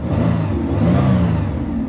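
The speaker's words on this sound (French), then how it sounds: "là présentement la voiture a démarré," A Chrysler car engine runs steadily after being restarted, a close, loud mid-pitched hum with a slight rise and fall in revs and no talk over it.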